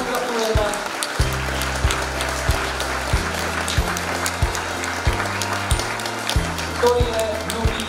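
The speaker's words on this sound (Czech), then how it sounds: "Tomáš Pešek, dámy a pánové, prosím vás o potlesk" Applause from an audience at a city sports award ceremony in Hradec Králové, steady clapping under background music and chatter, with no lull across the stretch.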